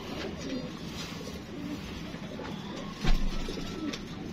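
Pigeons coo softly and repeatedly in a loft, low rounded calls recurring over faint background noise, with a brief louder thump or flutter partway through.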